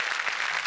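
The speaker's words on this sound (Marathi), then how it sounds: "जोरदार टाळ्या हिच्यासाठी वाजव प्लीज." Studio audience applause on a Marathi television comedy show, a steady dense wash of clapping hands filling the whole brief moment.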